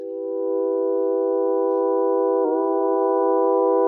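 OP-XY synthesizer holding a sustained tonal note for several seconds, with a sudden pitch bend shift partway through, steady and clean with no talking.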